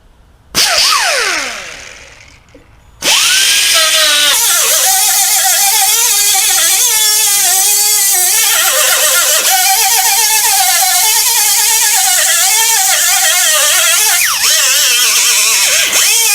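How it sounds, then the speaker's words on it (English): An angle grinder fitted with a 36 grit disc grinds paint and filler off a car body, a loud close whine spinning up after a brief start, then steady abrasive grinding with pitch dips as pressure on the panel changes. "I'm going to use the angle grinder with a 36 grit. I'm going to grind everything off"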